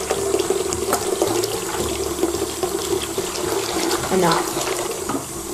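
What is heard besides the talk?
water running while rinsing shampoo from hair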